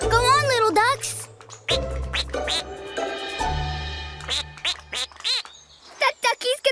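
Cartoon ducks quack in rapid, bright bursts amid cheerful children's-show sound effects and music, loud and close, with a brief spoken line mixed in.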